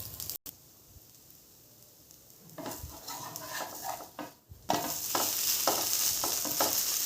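Food frying in oil in a pan, cooked on both sides until red, for a Telugu home meal; a quiet stretch gives way to louder, steady sizzling and crackling with a few stirring or utensil scrapes, and no talking.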